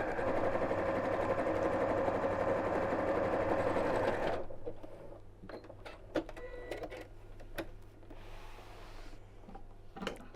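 A sewing machine stitches quilt-as-you-go blocks, running loud and steady for about four seconds before it stops, followed by quieter handling clicks and fabric movement.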